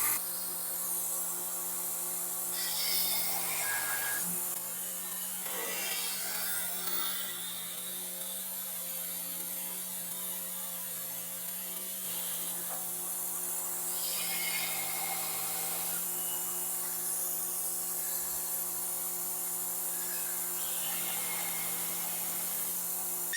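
A hand file works over the details of a tactical knife blade, giving faint, steady rasping strokes repeated at intervals against a quiet background hum.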